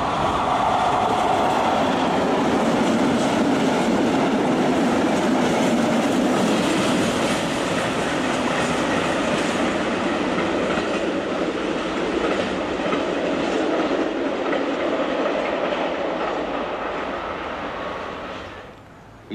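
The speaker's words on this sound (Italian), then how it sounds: "Treno in transito al binario 2, allontanarsi dalla linea gialla." A diesel train passes through a station on the Tuscan central railway, a loud, sustained rumble and clatter of wheels that stays strong for most of the time, then fades away near the end.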